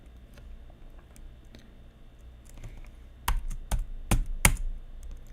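Keys tapped on a Mac keyboard while working in a terminal: soft scattered typing at first, then several sharper, louder keystrokes close by near the end.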